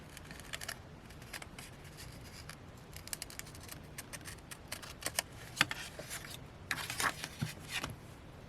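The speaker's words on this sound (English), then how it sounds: "I'll use my scissors." Scissors cut paper for a handmade journal, giving a series of close, crisp snips and rustles that come in uneven bursts, heaviest near the end, with no talk.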